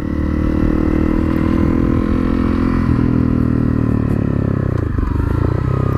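A Honda CRF250L dirt bike rides a forest trail in the Trossachs, its engine droning loud and steady with shifting revs, clattering and scraping over rough ground throughout.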